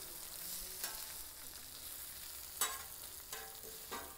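Fresh spinach wilting in melted butter on a Blackstone flat-top griddle, a steady soft sizzle with a few brief scraping stirs, close and alone.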